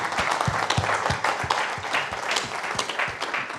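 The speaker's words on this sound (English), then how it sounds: "A round of applause for Rick." Audience at a BSides Newcastle 2022 security conference main track applauds a speaker, dense steady clapping from many hands with a few louder individual claps standing out.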